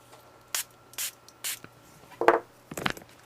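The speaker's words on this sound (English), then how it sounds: "So I'm going to spray some water." Spray bottle misting water onto glued paper, three short hissing squirts spaced evenly, followed by softer rubbing and handling noises, close and quiet.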